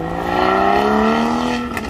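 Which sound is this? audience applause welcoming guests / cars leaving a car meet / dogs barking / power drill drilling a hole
cars leaving a car meet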